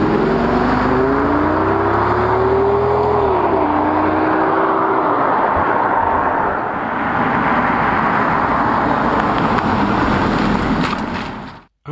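Audi S6 estate car engine droning loud and steady at speed, a rising and falling tonal growl over heavy road and wind roar that cuts off abruptly at the end.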